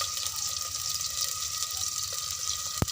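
Water pours into a cooking pan of fried garlic while a dried-fish curry is being made, a steady close rushing and hissing that runs the whole time without a break and with no talking.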